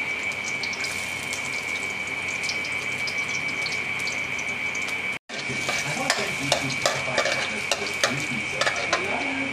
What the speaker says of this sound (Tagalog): maglalagay na tayo ng bawang. Ayan guys, ang bawang.